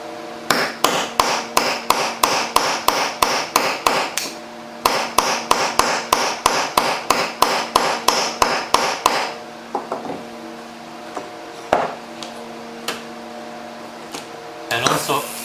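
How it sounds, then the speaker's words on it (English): A hammer pins an overlaid metal part in two quick runs of sharp, evenly spaced ringing blows, followed by a few slower isolated strikes, loud and close. "After that, you need to pinning on the overlaid part."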